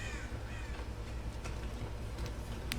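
A crow in the Dead by Daylight game caws, faint and distant, over a low, noisy ambient bed.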